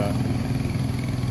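Royal Enfield Meteor 350 motorcycle cruising at about 50-55 km/h in third gear on a hill road, a steady low engine drone with rumbling exhaust and wind, constant and close throughout with no talk.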